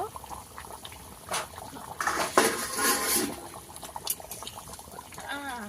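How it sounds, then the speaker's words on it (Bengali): A lid comes off a pot of simmering desi chicken curry with a metallic clatter and scrape, set among lighter kitchen clinks and a soft bubbling background. "ঢাকা খুলে দেখে নেব।"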